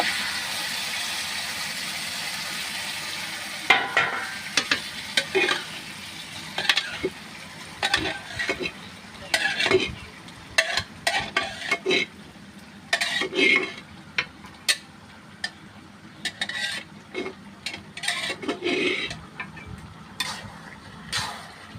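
Mashed taro and potato go into a hot wok, giving a soft sizzle under repeated clattering scrapes and knocks of a spoon against the pan, close and irregular, with no talk.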